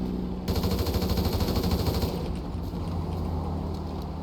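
Sustained rapid automatic gunfire in a UnityRP role-play video game, loud bursts rattling steadily, easing slightly toward the end but continuing throughout, with no talking.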